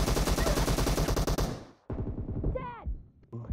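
Sustained fast gunfire in PUBG Mobile, loud and continuous for about one and a half seconds, then a pause and a few more scattered game sounds.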